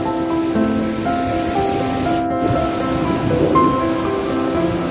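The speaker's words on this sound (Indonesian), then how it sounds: "itu air terjunnya, ini limpahannya" Water pours steadily at the Sarasah Kayu Jao waterfall, about 40 metres high, a continuous broadband rush with a dull tone over it and a brief dropout near the middle.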